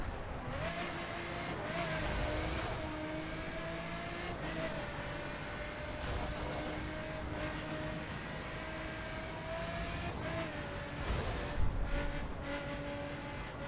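A sports car lapping a circuit in The Crew racing game, compared against a Ferrari: a steady, moderately loud engine drone with shifting revs and tire noise carries through the whole stretch, with no voices.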